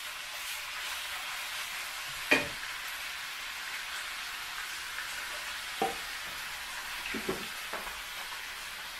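Turkey meat frying in a pan gives off a steady, soft oil sizzle, with a few louder scraping clacks of a spoon stirring and turning the meat at irregular moments.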